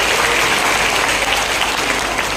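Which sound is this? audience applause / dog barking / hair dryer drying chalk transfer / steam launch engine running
audience applause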